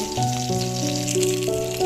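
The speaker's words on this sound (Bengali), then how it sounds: "মাছ আমার অলমোস্ট ভাজা হয়ে গেছে" Oil sizzles steadily as pabda fish fries in a pan, a constant crackling hiss beneath sustained musical tones.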